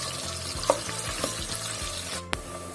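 Onions sizzle steadily in a hot pan, with occasional stirring scrapes and soft pops over a continuous frying hiss.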